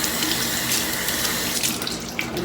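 Tap water runs steadily into a sink while bamboo makeup remover pads are dampened underneath, a close continuous splashing rush with small irregular splatters.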